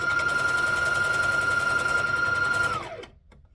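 Sewing machine running a jump stitch while making a rash guard: a steady, close, fast whirring hum with a sustained tone that holds for almost three seconds, then winds down and stops abruptly.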